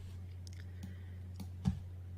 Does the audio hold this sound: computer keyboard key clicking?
yes